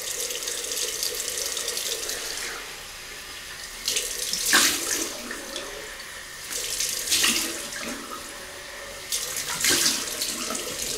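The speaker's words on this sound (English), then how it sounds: "and then I'll cold rinse it off." Cold water runs steadily from a tap over a 1940s GEM Flip Top G-Bar safety razor, with the splashing rising and falling in several louder bursts as the razor is rinsed under the stream. No one speaks.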